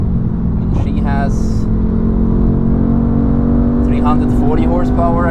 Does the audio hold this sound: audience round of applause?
no